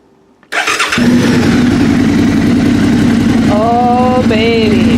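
A 2013 Suzuki Gladius motorcycle with an aftermarket exhaust cranks briefly and fires up, then settles into a loud, deep, throaty idle that rumbles steadily close by, with a couple of faint whistle-like tones near the end.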